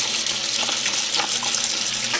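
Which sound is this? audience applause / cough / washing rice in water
washing rice in water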